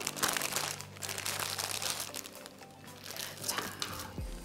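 Crinkly paper rustling and tearing as a paper envelope is opened by hand, steady close crackling for several seconds with no talk.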